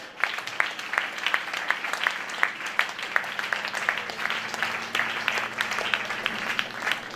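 A church congregation at a French-language Sunday service breaks into steady applause, many hands clapping continuously at moderate volume, with some faint voices mixed in.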